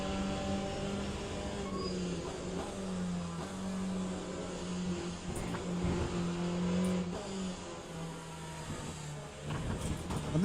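Corvette race car in the Le Mans Ultimate racing game, its engine droning and revving steadily through the whole stretch at close range, with pitch rising and falling through gear changes and no talk over it.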